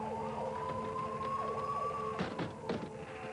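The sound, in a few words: ambulance siren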